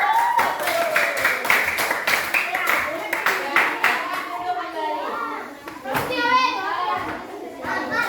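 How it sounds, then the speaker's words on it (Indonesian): Children in a classroom clap their hands together in a lively burst of applause, with excited kids' voices and chatter rising over and after the clapping. "Beri tepuk tangannya dulu."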